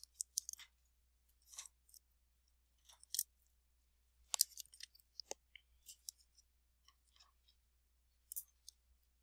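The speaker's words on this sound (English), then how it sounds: "Just trim off the tape." Scissors trim tape off a paper craft piece in a quiet room, giving faint, intermittent snips and small clicks spread out with silent gaps between them.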